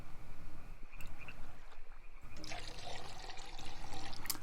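A pottery jar is filled with water in the Wurm Unlimited game: a short splash of pouring liquid, followed by a steadier gurgling fill, fairly close and clear with no talk.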